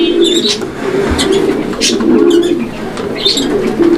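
A pair of pigeons from a high-quality pigeon collection cooing close and loud, repeated low rolling coos with sharper chirps and rustles breaking in between.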